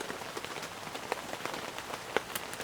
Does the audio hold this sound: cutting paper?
no